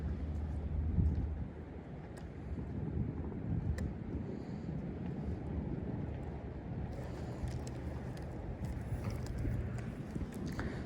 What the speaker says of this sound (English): So the wind's kind of blowing in that direction